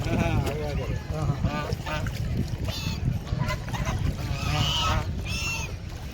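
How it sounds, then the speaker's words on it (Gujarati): Ducks at a lake quack and honk repeatedly at close range, the calls mixing with people talking and a constant outdoor background. "દોસ્તો આ બતક માટે તમે કાંઈક ખાવાનું લાવજો"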